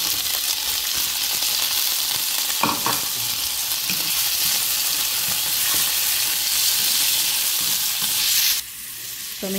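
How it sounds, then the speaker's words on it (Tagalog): Shrimp frying in a pan with onion, a steady loud sizzle throughout with occasional stirring clinks and scrapes, ending in a brief quieter patch. "So, medyo lulutuin ko yung aking shrimp muna."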